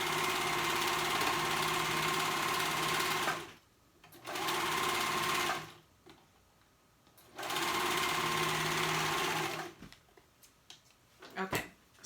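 A sewing machine stitches the seams of a cold shoulder romper, running in three steady bursts of a few seconds each with short quiet pauses between, close and loud, followed by faint handling clicks at the end.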